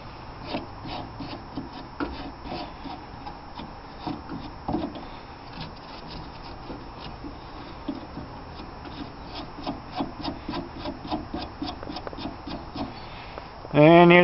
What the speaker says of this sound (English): Getting it roughly cut out to shape, and getting it sanded in here.